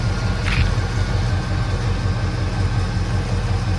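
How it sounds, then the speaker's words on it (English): A 1970 Lincoln Continental Mark III's V8 engine idles with a steady, deep, low rumble and an even pulsing throb, close and continuous with no talk. "Engine sounds great."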